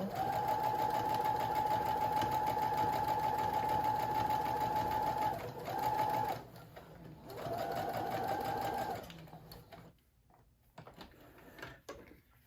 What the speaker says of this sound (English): by doing stay stitching, it stays in the fabric the whole way through